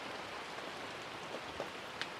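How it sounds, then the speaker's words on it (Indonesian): Rain falls in a steady, soft, even hiss, with a few individual drops tapping now and then; there are no voices. "Berarti memang hujan ini adalah buatan dari sosok goib di sini"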